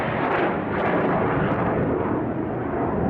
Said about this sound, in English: That's the jet from the air show that's going on at Easterplaat at the moment.